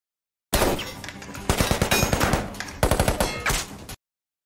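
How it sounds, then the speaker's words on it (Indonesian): Rapid automatic gunfire in a film shootout, loud bursts of machine-gun rounds with scattered single shots, near and continuous for about three seconds with brief gaps between volleys. "Setelah ia sampai di dalam, baku tembak tak bisa dihindarkan."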